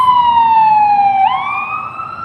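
An ambulance siren wails along a Las Vegas street, loud and close. Its steady tone slides downward, then jumps and rises again as the vehicle passes, over a faint traffic rumble.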